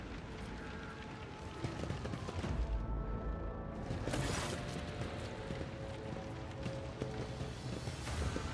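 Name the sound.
distant gunfire in Warhammer 40k Rogue Trader video game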